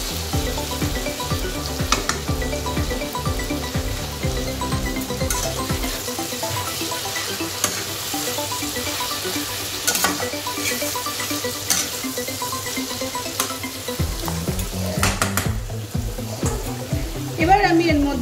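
Ginger, garlic and chili paste sizzling in a hot pan for Bengali pui chingri, a continuous frying hiss with scraping stirs and spatula knocks throughout, as a voice talks over it now and then.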